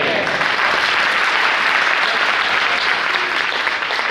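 An audience at a Jain religious discourse applauds in a dense, sustained burst of clapping that holds steady and loud throughout, with no talking over it.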